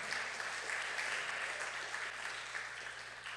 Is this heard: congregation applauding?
yes